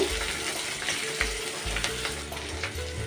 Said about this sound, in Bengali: লঙ্কা পেঁয়াজটা একটু হালকা ভেজে নেব